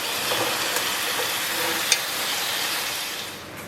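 Loud, steady sizzling of chicken searing in a hot pot for Persian fesenjan stew, with occasional scraping stirs and a faint clink; no talking.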